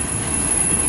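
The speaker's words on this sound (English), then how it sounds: "this is about my third auto rack train I have caught this week" Eastbound CN autorack freight train led by locomotives 5704 and 5724 passing in Battle Creek, Michigan, a loud, steady roar of rolling railcars close by, with no pauses and no voices.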